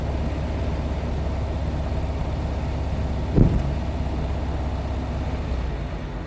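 A 1971 Volkswagen Square Back drives along steadily, its low engine drone and road rumble continuous throughout, with a brief louder thump partway through.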